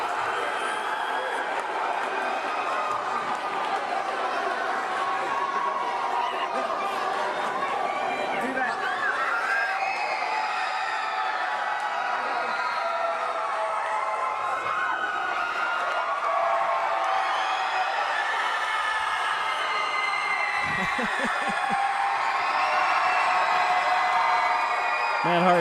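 A wrestling arena crowd cheers and roars steadily throughout, a loud continuous wash of voices with whoops rising near the end, under a commentator talking.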